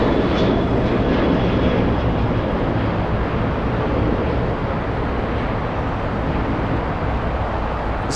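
A Turkish Airlines airliner in a special biofuel livery taxis to park at LAX at night, its engines producing a loud, steady roar and rumble that holds constant, gradually easing slightly.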